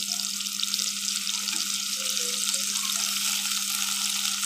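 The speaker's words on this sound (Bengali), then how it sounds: "পেঁয়াজটা একটু ভাজা হওয়ার জন্য এখন অপেক্ষা করব।" A generous amount of chopped onion fries in oil for an egg curry, making a steady, close, unbroken sizzle with a constant low hum underneath.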